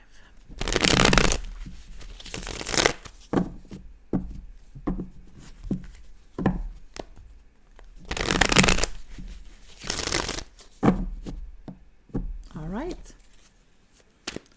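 Tarot cards shuffled close by in several loud riffling bursts separated by softer handling and tapping sounds, with a voice speaking over parts of it.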